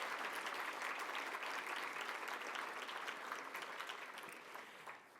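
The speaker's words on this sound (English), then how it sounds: "A round of applause for all of our corporate partners." Conference crowd applauds its corporate partners at an international LGBTQ+ leaders gathering, a dense, steady wash of many hands clapping in a large hall, faint and distant, slowly tapering toward the end.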